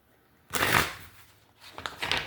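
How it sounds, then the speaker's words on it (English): Oversized, flimsy Harry Potter meditation cards are shuffled by hand in two close bursts of riffling and flapping, separated by a brief lull. "shuffling them is kind of hard"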